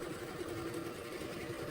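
A printer's waste ink pump runs steadily, drawing suction through the ink stack, with a continuous motor hum and a faint whirring buzz at an even level and no speech.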